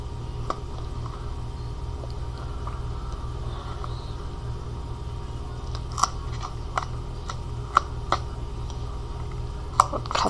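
Scissors snip through tape for a magnetic marker holder, a scattering of small, close, dry cuts that grow more frequent toward the end, over a quiet steady room hum with no voices.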